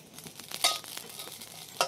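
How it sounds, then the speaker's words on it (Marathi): Poppy seeds roast and crackle in a hot kadhai over a strong flame. A few sharp pops and crackles stand out over a soft, steady sizzle, close up and fairly quiet, with no one talking. "जाळ चांगला लागलाय त्यामुळं लगेच भाजणार आहे ती. चांगली तडतडली."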